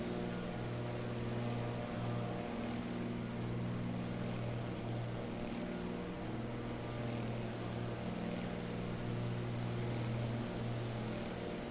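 A propeller plane drones steadily in Microsoft Flight Simulator 2024, a continuous engine hum with a low tonal whine that holds level and unbroken throughout, with no voices.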